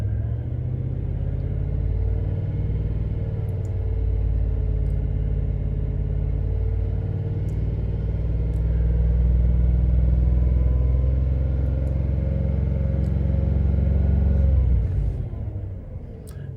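A 2010 Ram 1500 with the 5.7 Hemi V8, suffering an oil pressure fault, rumbles steadily at idle, swells as the throttle opens around the middle, then settles back down as the engine idles off; close, loud and continuous with no talk.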